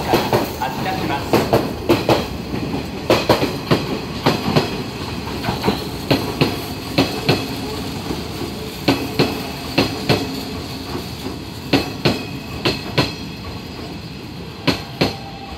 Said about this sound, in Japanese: 次の芦原神宮前行き、電車は6番乗り場から発車します。